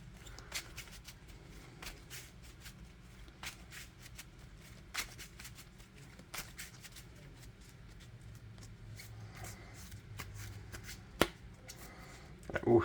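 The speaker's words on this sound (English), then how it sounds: "the part where I'm shuffling" Yu-Gi-Oh Dark Magician trading cards shuffle in a quick run of soft riffling snaps, close and fairly quiet, with brief pauses and light handling noise.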